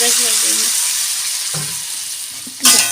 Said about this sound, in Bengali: এখন মা দিয়ে দিচ্ছে জল একটু সেদ্ধ হওয়ার জন্য জল দিয়ে দিচ্ছে